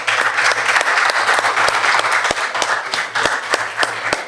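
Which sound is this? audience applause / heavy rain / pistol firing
audience applause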